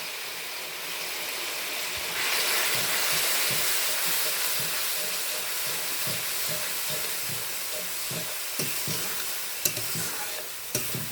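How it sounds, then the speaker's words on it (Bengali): Spices with chilli and cumin powder sizzle and fry steadily in a pan over low heat for a Bengali small-fish curry, a loud continuous hiss with scraping stirs near the end. "মশলাটা কষিয়ে নিচ্ছি হালকা আঁচে"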